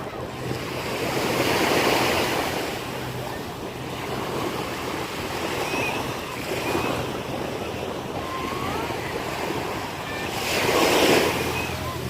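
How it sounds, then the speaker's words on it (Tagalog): Strong ocean waves crash and wash continuously onto Repulse Bay Beach, Hong Kong, with surges swelling in loudness, wind rumbling on the microphone throughout. "Lakas na ng alon"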